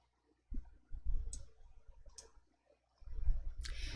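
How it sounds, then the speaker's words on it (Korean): A computer mouse clicks a few times at close range, sharp and soft against a quiet background, with faint handling noise between the clicks. "확인을 클릭해 주세요."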